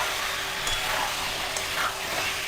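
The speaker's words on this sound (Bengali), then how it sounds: "চিরবির চিরবির করছে পাশগুলো, এই যে তেল ছাড়ছে" Oil sizzles steadily around the edges of a pan of dhaniya chicken as the water cooks off, a close, even frying hiss with faint crackles throughout and no talk.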